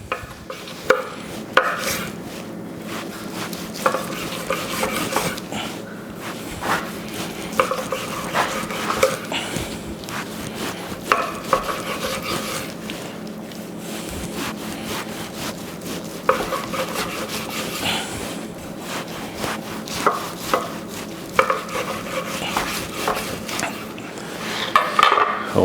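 A knife works through a smoked brisket point on a pellet smoker setup, giving soft repeated rubbing and scraping strokes against a cutting board, close up and fairly steady with occasional sharper knocks, no talking.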